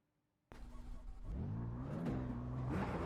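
A race car engine in the iRacing M2 Cup sim starts up abruptly and climbs steadily in pitch as it revs and accelerates, loud and continuous through the rest of the clip.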